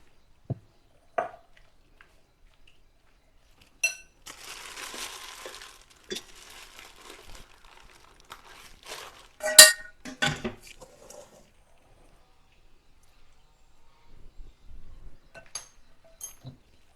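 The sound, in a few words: marinating okra coated in rice flour in a bowl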